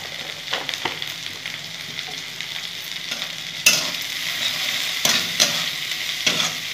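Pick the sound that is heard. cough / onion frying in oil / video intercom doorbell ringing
onion frying in oil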